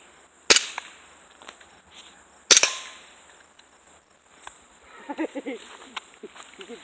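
BB gun fired at skeet targets outdoors, two sharp isolated cracks a couple of seconds apart, followed by people talking quietly.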